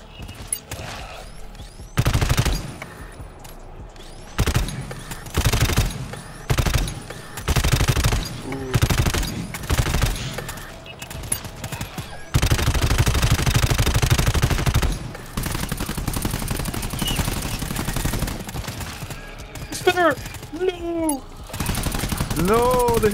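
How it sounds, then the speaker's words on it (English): In the co-op shooter GTFO, repeated bursts of gunfire alternate between rapid automatic fusillades and single loud shots. The shooting is close and punchy and broken by pauses, and excited players talk over and between the bursts. "We're shooting, we're shooting. I'm shooting, yeah, I'm shooting, bro."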